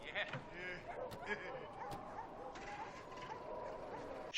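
Stray dog in the Annie film whimpering and giving short yips and barks in a few bursts, mixed with other film sounds and a bit of background talk.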